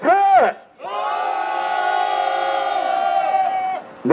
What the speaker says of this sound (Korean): 힘차게 함성 질러보겠습니다